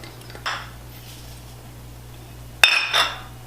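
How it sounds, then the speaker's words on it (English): A spoon stirs a garlic, chopped rosemary, Dijon and olive oil marinade in a bowl, giving a few soft, close clinks against the bowl separated by quiet pauses. "And then just stir to combine thoroughly."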